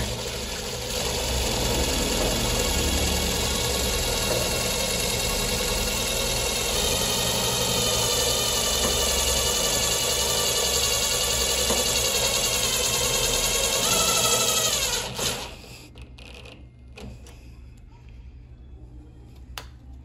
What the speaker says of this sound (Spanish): Vamos a colocar unas pija brocas aquí para que ya quede fijo y no se esté moviendo.